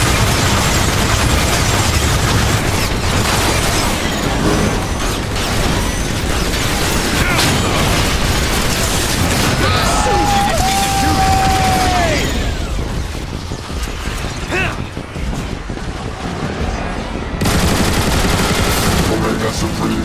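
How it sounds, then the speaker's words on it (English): Explosions and gunfire in the video game Transformers: War for Cybertron, a dense, continuous barrage of loud blasts and rapid weapon fire throughout, with a game voice speaking over the battle. "Decepticons, Omega Supreme has deployed aerial bots! Shoot them down!"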